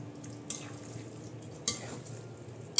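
Beef fries in a little cooking oil under a soft, constant sizzle while a utensil stirs it, scraping and clinking against the pan three times at irregular intervals, close by and without talk.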